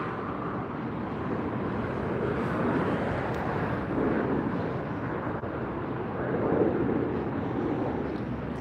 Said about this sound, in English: This is an Airbus 380-800 series.